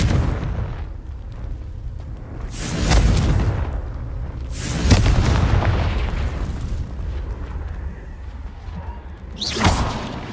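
Booming spell explosions from the Confringo fire spell in the video game Hogwarts Legacy, several heavy whooshing blasts rising out of a dense rumbling game soundscape, the last one short and sharp.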